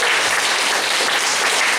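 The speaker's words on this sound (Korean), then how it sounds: "큰 박수 한번 주세요." Audience at a preliminary round of a Chuseok citizens' singing contest in Gimhae gives loud, sustained applause, a dense even roar of many hands clapping without talk.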